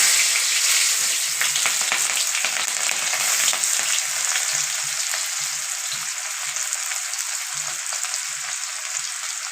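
Black cumin, dried chilli, bay leaf and chopped onion fry in hot oil with a constant close crackling sizzle, broken by irregular soft knocks of a spoon stirring through the pan; nobody speaks.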